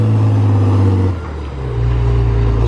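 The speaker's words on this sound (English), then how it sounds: "It's just the track cutter." A tracked feller cutter drives over logs in the woods, a loud steady engine drone that dips briefly as the machine crosses the timber and then builds again, close and without talk.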